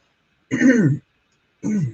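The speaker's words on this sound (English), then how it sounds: "Sorry, I was clearing my throat." A woman clears her throat twice indoors during a live online sale, two short raspy bursts separated by about a second of silence, close to the microphone.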